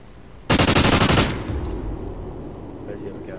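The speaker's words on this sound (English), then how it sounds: "The guns." Rapid automatic gunfire in a Halo multiplayer match, a loud dense burst of about a second that cuts off into a lingering game ambience.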